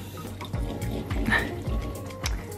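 Tap water runs and splashes into a bowl in a home kitchen during a morning routine, a close, uneven trickling with drips and small thumps.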